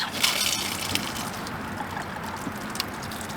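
Water runs out of the opened low point drains beneath a travel trailer being winterized, a steady splashing trickle heard close and alone for a few seconds.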